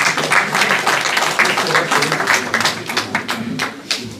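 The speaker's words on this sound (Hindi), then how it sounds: "दरख्वास्त करता हूँ कि एक दफ़ा अपने लिए भरपूर तालियां बजाइए" An audience at a UK poetry society book launch claps enthusiastically, a close, busy patter of many hands with uneven bursts, tapering off toward the end.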